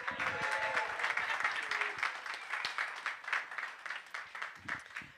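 Audience applause for a performer at a Nerd Nite design-week event on a winter city theme, a steady wash of clapping that runs the whole time and dips briefly near the end.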